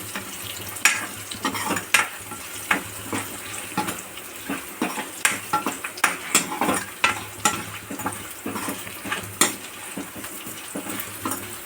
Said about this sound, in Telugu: పోపులంతా తిరుమాత పెట్టుకుంటున్నానండి